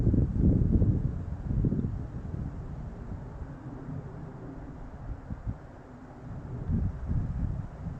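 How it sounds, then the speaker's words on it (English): Light breeze sweeping across open grassland at a nature reserve, a soft continuous low rumble of wind buffeting the microphone, stronger at the start and swelling again near the end, with no voices. "Nice little breeze as well. As you can see, the grasses are dancing in the wind there"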